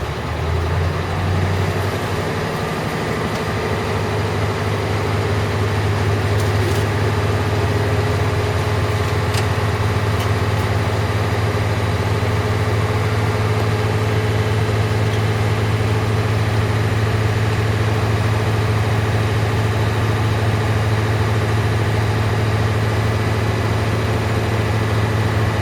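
A bus engine idles in a steady, loud, low rumble while air pressure builds, running continuously with no talk.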